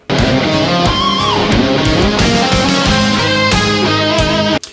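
Electric guitar plays a flowing melodic phrase from a solo, with quick triplet runs and arpeggiated lines over a sustained D, loud and continuous without talk.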